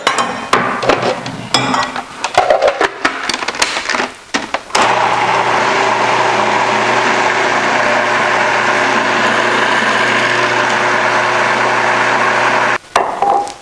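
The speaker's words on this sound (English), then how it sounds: "pour this into the food processor and blend it" A few loud clattering knocks give way to a blender roaring steadily for several seconds blending butternut squash, stock and shallots into soup, then it cuts off abruptly.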